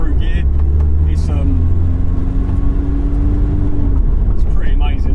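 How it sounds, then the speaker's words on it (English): Supercharged Honda S2000 pulling through its gears, a loud steady engine drone with rising pitch under continuous in-car talk. "as the RPMs rise, the supercharger spins faster, boost increases, and the car just gets quicker and quicker and quicker through gear"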